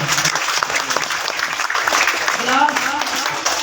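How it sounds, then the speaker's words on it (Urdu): Steady clapping from an audience at a school's annual results ceremony in Mandi Bahauddin, a close dense patter with faint voices mixed underneath for the whole stretch. "تالیاں ہو جائیں اس بچے واسطے"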